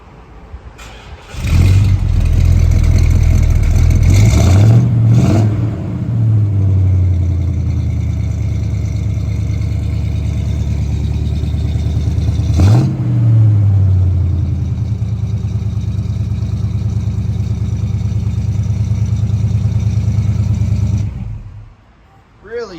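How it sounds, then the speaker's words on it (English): A 1968 Pontiac GTO Ram Air cranks and fires at close range, settling into a loud, steady idle with a brief blip of revs midway, then shuts off near the end. "He's gonna start it up for me."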